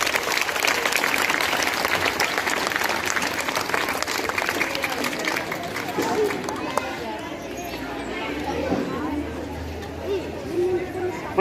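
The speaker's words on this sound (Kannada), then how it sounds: "ಜೋರಾದ ಚಪ್ಪಾಳೆಯೊಂದಿಗೆ" Loud applause from a crowd at a government school Independence Day celebration, dense clapping that carries for several seconds then tapers off into chatter and murmuring voices.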